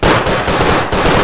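Rapid automatic gunfire from the World War I shooter game Verdun, loud close bursts of evenly spaced shots with brief gaps, no talk over it.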